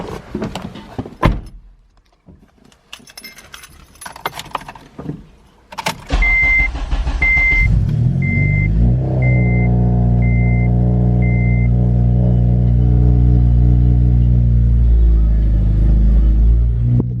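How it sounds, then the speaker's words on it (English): Car sounds and a door, then a Honda Civic Si engine cold starts with a loud startup rev and settles into a deep, steady idle rumble, with a repeating electronic chime. "As you can tell, this car is ridiculously loud on startup. So I just did a cold start"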